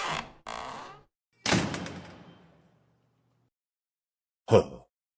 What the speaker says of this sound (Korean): 대문을 쾅 하고 닫으며 들어가 버리는 것이었습니다.